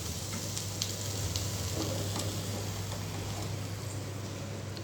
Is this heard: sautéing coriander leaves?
yes